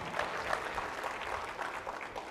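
Audience applause at a school district convocation, a moderate, steady patter of many hands clapping in a large room, slightly distant and with no speech over it.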